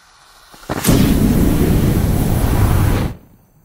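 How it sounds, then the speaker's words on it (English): A flamethrower fires in a war ambience: a sudden loud roaring whoosh bursts in, holds as a dense rushing blast for about two seconds, then cuts off abruptly. "That is a flamethrower."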